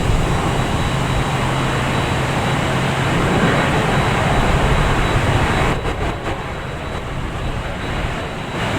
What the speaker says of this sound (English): next taking off is JetBlue heading to Phoenix and A320